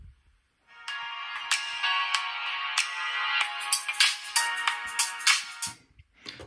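A test signal plays through the tweeter of a DIY ESP32 DSP Bluetooth speaker: a bright, ringtone-like run of high-pitched notes with sharp attacks, fairly steady in level and heard alone without talk.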